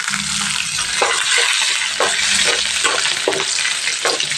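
A red chilli mixture fries in a pan while being stirred. A loud, close sizzle runs throughout, broken by regular scraping strokes about every half second, with no voices.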